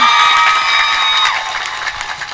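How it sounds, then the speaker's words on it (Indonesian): An audience at an Islamic religious study gathering breaks into applause mixed with cheering and children's shouts, loud at first and then thinning out over a couple of seconds. "tepuk tangan dulu"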